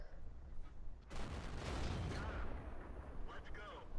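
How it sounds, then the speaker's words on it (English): A tank cannon shot in a tank combat game with the T29 heavy tank, a sudden loud blast followed by a rumbling roll-off, then faint metallic clanks and engine hum, with someone talking quietly over it. "I do manage to bounce a shell off him or do 0 damage."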